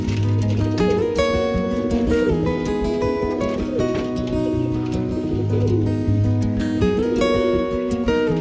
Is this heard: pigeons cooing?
yes